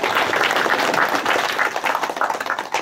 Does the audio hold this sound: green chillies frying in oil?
no